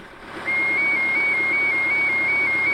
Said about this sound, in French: L'alarme de l'engin de forage doit retentir.